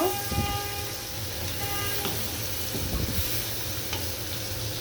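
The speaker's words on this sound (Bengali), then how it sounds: "আর একটু ভেজে নিব।" Snake gourd fries in a pan with a soft, continuous sizzle heard from close by, broken by occasional scraping taps of stirring.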